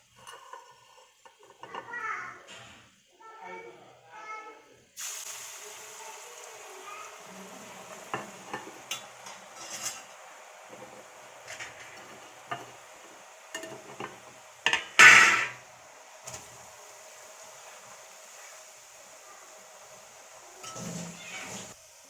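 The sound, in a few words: murukku dough frying in hot oil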